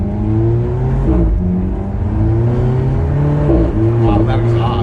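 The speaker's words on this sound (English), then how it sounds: "Wow, that exhaust is crazy." An Alfa Romeo sports car's exhaust droning and revving, a loud, steady engine note that rises and dips in pitch as the throttle changes, heard close from inside the car.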